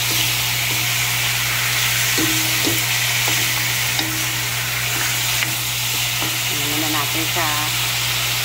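Eel adobo sautéing in a hot pan, a loud continuous sizzle and hiss close up, broken by scraping stirs and clinks of a utensil against the pan, with no talking.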